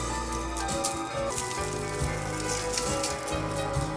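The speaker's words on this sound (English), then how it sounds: "now I sprinkle some salt and black pepper" Salt and black pepper sprinkled over cauliflower, okra and potatoes for oven baking, a soft continuous patter of fine grains landing on the vegetables, close and steady.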